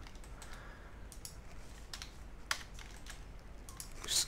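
Computer keyboard keys are pressed in short separate taps while working in Blender, a sparse, quiet sequence of clicks with one sharper keystroke midway and a small burst near the end, no voice present.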